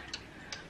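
A cuckoo clock ticking during winding, two crisp, evenly spaced ticks close by over a steady low room hum.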